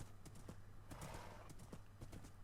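Horse hooves clopping in a survival-building video game, a faint series of hollow clip-clop steps at an uneven walking pace, with a short burst of rustle midway.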